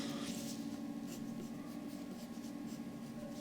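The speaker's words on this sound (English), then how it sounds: "Alright, now I'll do some colored pencils." Soft, continuous scratching of a colored pencil on paper close by, with light rhythmic strokes over a faint background hum.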